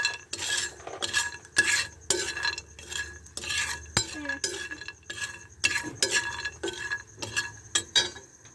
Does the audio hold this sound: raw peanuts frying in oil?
yes